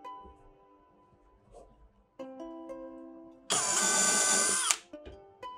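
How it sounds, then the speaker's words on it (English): A power drill bores holes for a cabinet hinge in a woodworking shop, a loud whining burst of about a second after quieter handling sounds and a brief motor hum. "Now I'm going to drill two holes."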